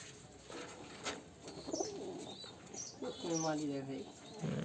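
Pigeons coo in soft, throaty bursts close by, with people talking over them and a faint bird call or two in the background.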